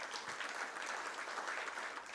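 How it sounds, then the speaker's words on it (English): Audience members at an SME manufacturers and exporters summit in a Mumbai conference hall applaud, a steady, even patter of many hands sounding faint and distant throughout. "Ladies and gentlemen, please give a round of applause."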